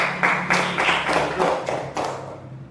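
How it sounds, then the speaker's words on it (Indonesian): A small group of students claps together in a classroom, a short ragged burst of light hand claps with uneven rhythm that fades after a few seconds, fairly close. "ayo tepuk tangan"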